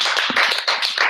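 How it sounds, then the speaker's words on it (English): Audience applause at a monthly WebVR/AR tech meetup in San Francisco, a short burst of dense, steady clapping from a room of listeners, close and fairly loud. "Esteban, let's do another round of applause for all the work you guys have put into this."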